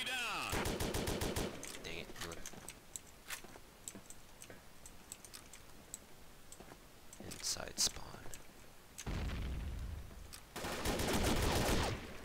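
Rapid bursts of gunfire from the mailbox gun in the video game Combat Arms, loud clattering volleys at the start and end with scattered single shots between, while a player talks over them.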